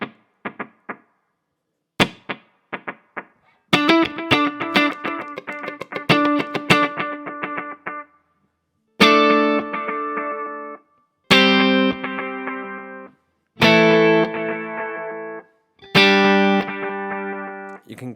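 Electric guitar played through a Kemper delay effect, sharp chord stabs and plucks repeating in rhythmic echo patterns, first busy and dense, then spaced strikes with ringing repeats, loud and close.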